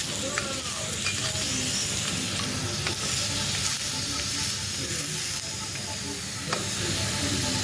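A ragi snack shallow-fries in a little oil on a tawa, giving a continuous dense sizzle and hiss with faint stirring clicks, steady and close throughout with no talk.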